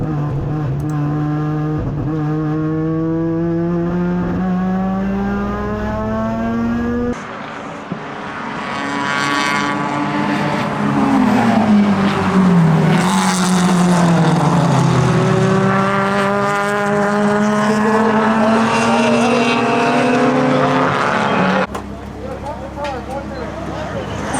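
Rotary-engine race car in a 12-hour endurance race, its engine loud and close as it revs hard, drops pitch under braking and climbs again through the gears exiting corners, a continuous high buzzing wail throughout.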